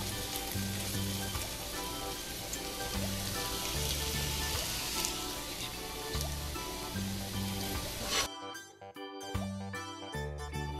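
Okra (ladies' finger) fries in a pan without onion, a dense, continuous sizzle up close that eases off briefly near the end, with faint background music.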